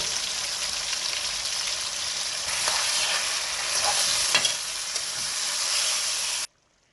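Mutton with ginger garlic paste and tomatoes sizzles steadily in a pan, a dense continuous frying hiss with occasional stirring scrapes, close and fairly loud, ending abruptly in silence.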